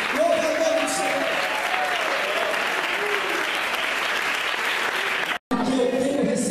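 A church congregation in Goiânia claps loudly and steadily for several seconds. A dense wash of applause comes with faint voices mixed in and is cut off for a moment near the end.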